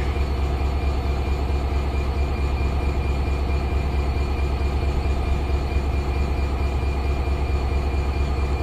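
A passenger train driven by its loco pilot rumbles steadily from the cab, a constant loud low roar of engine and wheels with no clear rise or break.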